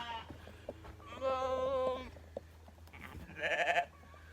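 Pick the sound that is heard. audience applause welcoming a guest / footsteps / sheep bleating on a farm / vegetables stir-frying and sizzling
sheep bleating on a farm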